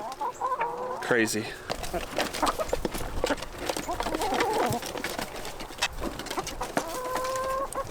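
Chickens crowding a feed trough for crumbled layer feed, clucking and squawking eagerly in a busy outdoor flock, with a brief spoken remark over the noise.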